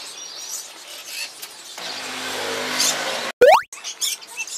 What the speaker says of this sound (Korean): 말하는 앵무새.